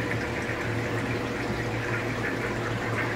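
Water being emptied from a container holding stingrays, a steady loud rushing and gushing pour with a low pump-like hum running continuously throughout.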